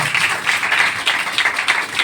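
A church congregation claps together to thank Jesus, a dense, fairly loud patter of many hands with a slightly rhythmic pulse and no pause.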